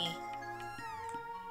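A cat meows in the video game Chrono Trigger, one drawn-out, tonal, synthesized meow heard clearly against quiet game music.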